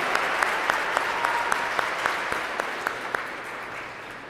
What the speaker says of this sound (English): That deserves a great round of applause.